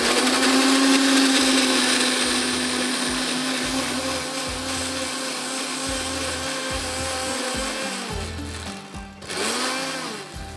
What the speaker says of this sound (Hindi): हम ब्लेंडर में डालकर पीस लेंगे। प्याज टमाटर और दही को हम पीस लेते हैं।